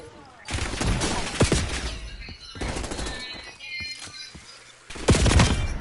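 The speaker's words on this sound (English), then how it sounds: "He's only using pistol." Rapid pistol gunfire in a Call of Duty battle royale match on Rebirth Island, several loud bursts of sharp shots with game effects and a voice talking briefly in between.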